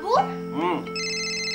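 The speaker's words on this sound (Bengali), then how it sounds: "এই দেখো আবার ফোন করেছে" Mobile phone ringtone ringing in a home, a steady electronic tone entering after a short voice, sustained and clear until the end.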